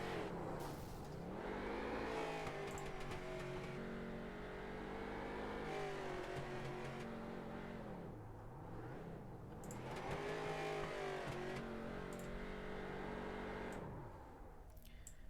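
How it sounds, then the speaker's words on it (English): Race cars in a sim racing game rev hard through celebratory burnouts, engines wailing up and down in repeated swells with faint tyre squeal, loud and close with no voices. "Bryn does his burnouts for your race win"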